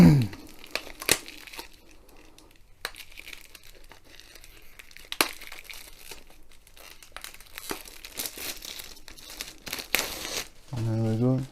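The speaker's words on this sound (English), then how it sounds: "it's wrapped in cellophane to stop any dust getting inside. So we'll remove that first." Cellophane wrap being peeled and torn off a sealed box, with scattered crinkles and sharp rustling bursts, some quiet stretches between them, and a voice speaking at the end.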